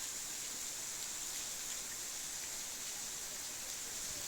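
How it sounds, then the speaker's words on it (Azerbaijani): Thin waterfall in Quba trickling sparsely over rock like falling raindrops, a steady, faint hiss with no voices. "Və gördüyünüz kimi şəlalə də axır. Su biraz seyrək formada axır."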